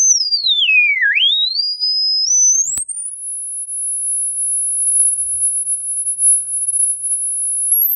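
A pure electronic test tone sweeps down then up through a coated JBL speaker diaphragm, briefly clicks, then holds a very high steady whine; alone, no talking.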